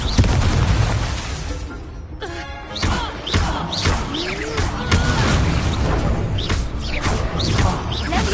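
Confringo fire spell blasts in Hogwarts Legacy, a string of booming explosions and thumping bursts amid hectic spell-combat clatter, loud and repeated throughout.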